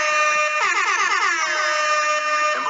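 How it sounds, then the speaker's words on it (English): A loud, blaring air horn holding a harsh, buzzy tone with warbling pitch that wavers throughout, uninterrupted. "Air horn."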